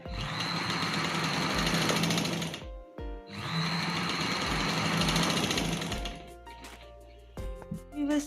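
A sewing machine stitches a V-shaped collar neckline on fabric, running in two long steady bursts with a short pause between, then stopping and starting in brief spurts.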